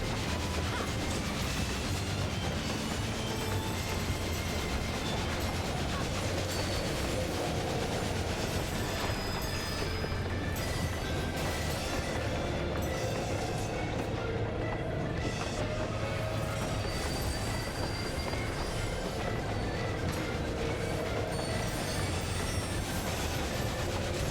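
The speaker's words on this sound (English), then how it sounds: "Freaking Phantom Train!" The Phantom Train boss from Final Fantasy XIV rumbles on continuously, a dense roaring rail clatter with steady clickety-clack and occasional squealing tones, loud and unbroken throughout.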